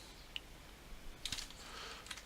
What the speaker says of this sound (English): we just need to type the following